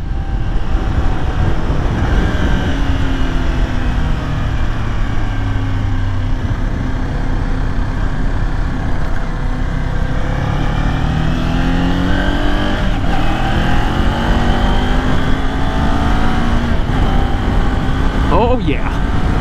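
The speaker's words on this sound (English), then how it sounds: "I'm barely flicking the throttle and I'm going." A 2022 Kawasaki Ninja 400 KRT motorcycle engine revs and accelerates steadily with a smooth, rising pitch, heard up close under constant wind rush, with a couple of gear-change dips along the way.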